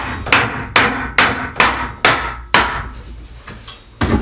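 A nailed, glued tongue-and-groove pine back panel on an old drawer is hammered loose, seven sharp close thwacks in a fairly steady rhythm, each with a short woody ring.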